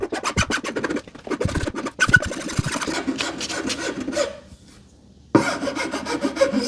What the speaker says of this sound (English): Okay, so I got my new file.